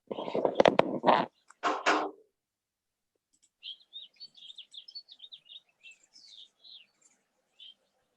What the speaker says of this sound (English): there's all these little birds